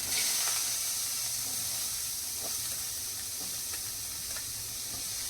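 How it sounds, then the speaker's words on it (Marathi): Corn kernels roasting in a hot pan for homemade pizza, a steady soft hissing sizzle with faint occasional pops and stirring. "भाजून घेऊया मका"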